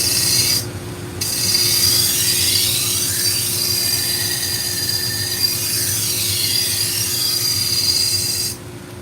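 A knife blade is sharpened in long, continuous rasping strokes that sound loud and close and steady, with a few short pauses at the start and finish.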